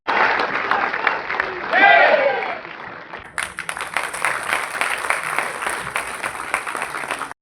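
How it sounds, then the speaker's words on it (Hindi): An audience at an award ceremony claps together, a dense burst of applause that follows a stretch where someone speaks over a microphone. "क्यों ना आप अपने स्थान पर खड़े होकर ताली बजाएं"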